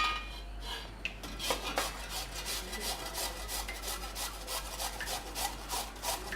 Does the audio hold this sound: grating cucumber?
yes